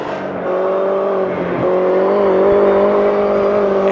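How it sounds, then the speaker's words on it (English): JCW Mini race cars, each with power close to a GT4 car, racing at the Red Bull Ring, a steady, loud engine drone with a sustained high whine that swells slightly as the cars hold pace, with no talking. "These monstrous minis, the JCW model, are putting on a show here today at Red Bull Ring."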